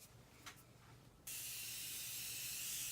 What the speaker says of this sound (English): I'm gonna take my Morphe setting spray